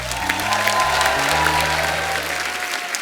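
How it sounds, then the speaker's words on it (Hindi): Loud, sustained studio audience applause on a Hindi comedy talk show, dense continuous clapping over shifting low music tones that fade near the end. "चलो जी, जोरदार होनी चाहिए तालियां।"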